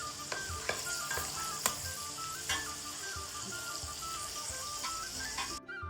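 Green peas fry in oil over a medium gas flame, a constant close sizzle broken by occasional clinks and scrapes of a stirring spoon.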